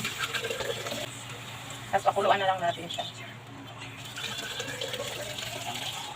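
Water pours briefly into a pot of chicken tinola, a short gurgling splash amid low background hum, while a person talks over it.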